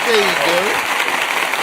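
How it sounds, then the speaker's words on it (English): Brief clapping from podcast hosts, a short patter under a voice speaking, close and moderately loud, fading after a second. "Give my dude a round of applause, real quick."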